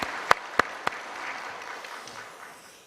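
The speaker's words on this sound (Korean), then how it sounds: "우리 주님께 감사와 영광의 박수 드립니다." Church congregation applauding during a Sunday worship service: three sharp, loud claps stand out near the start, then a softer diffuse patter of clapping fills the hall and slowly fades away.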